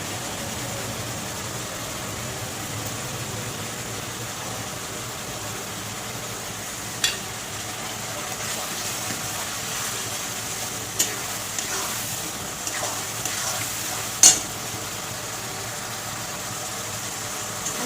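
Garlic paste sizzles and fries steadily in a hot pan, with a spoon stirring through it and occasional sharper scrapes and clinks against the pan, no talking.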